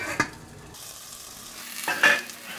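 Potatoes frying in a stainless steel pan, a soft sizzle broken by a few sharp scrapes and clinks as they are stirred and flipped.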